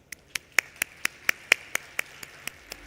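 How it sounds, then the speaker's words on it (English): Single pair of hands clapping at a conference main stage, about a dozen crisp, evenly spaced claps, fairly close, fading slightly at the end rather than a crowd's applause. "So please do give Dr. Yasser a warm round of applause."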